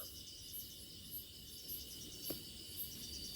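A cricket chirps outdoors in a faint, steady, evenly spaced pulsing trill that repeats about twice per second against a quiet background.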